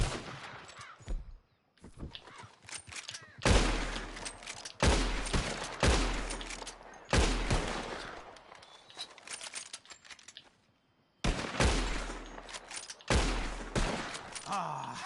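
Rapid bursts of rifle gunfire ring out loud and close while shooting at birds in Red Dead Redemption 2, volleys separated by brief pauses with no talking.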